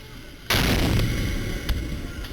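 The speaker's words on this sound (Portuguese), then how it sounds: "É possível ouvir uma explosão" A single sharp explosion at the Planalto palace entrance bursts loudly, then a rough, rumbling tail lingers with a faint second thud.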